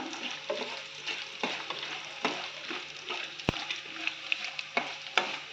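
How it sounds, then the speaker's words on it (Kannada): Dry coconut fries in a pan with a steady close sizzle, and a spatula scrapes and taps through it in a quick repeating rhythm. "ಸ್ವಲ್ಪ ಒಣ ಕೊಬ್ಬರಿ ತೊಗೊಂಡಿದ್ದೀನಿ, ಅದನ್ನು ಹಾಕ್ಕೊತಾ ಇದ್ದೀನಿ. ಅದನ್ನು ಚೆನ್ನಾಗಿ ಫ್ರೈ ಮಾಡೋಣ"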